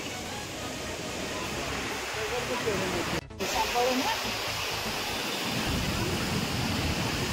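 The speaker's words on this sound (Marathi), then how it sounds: "कसलं मस्त पाणी चाललंय बघ।" Water rushing at Kundmala near Begadewadi dam: a steady, dense roar of flowing water filling the scene, with a brief dip midway and no break in the flow.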